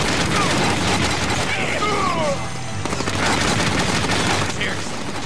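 Heavy gunfire from a big gun in the Deadpool video game, a loud continuous barrage of rapid shots filling the whole stretch with crashing bursts layered on top.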